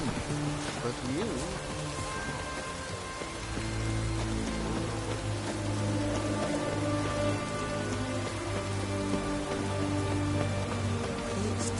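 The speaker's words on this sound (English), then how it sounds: "It's raining." Steady rain falls in The Witcher 3, a dense, even patter on surfaces with low ambient rumble underneath, continuing without a break.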